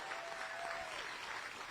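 A crowd at a Texas campaign rally in Addison claps in a brief, even burst of applause, heard faintly and from some distance.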